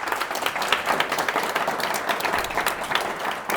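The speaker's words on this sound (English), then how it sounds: "big round of applause to the 2 speakers." A modest audience applauds two speakers at a .NET developer meetup, a steady patter of clapping lasting a few seconds at moderate loudness.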